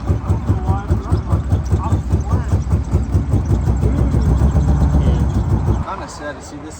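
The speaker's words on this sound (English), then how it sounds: "It looks like it's running off 3 cylinders." A Chevrolet C6 Corvette engine idles roughly as if firing on only three cylinders, producing a loud, uneven throbbing pulse with voices over it, then it drops off sharply near the end.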